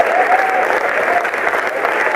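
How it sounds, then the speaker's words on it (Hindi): A small group of about seven or eight audience members claps at a Hindi comedy poetry recital, a steady and fairly loud patter lasting the whole moment. "7-8 लोगों ने ताली बजाई है"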